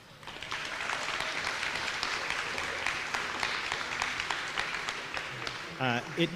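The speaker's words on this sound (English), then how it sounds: "a big round of applause to many of you in the crowd for volunteering this weekend" A crowd at a youth championship applauds its weekend volunteers, a steady wash of many hands clapping throughout, with a voice starting to speak over it near the end.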